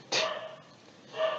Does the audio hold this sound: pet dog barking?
yes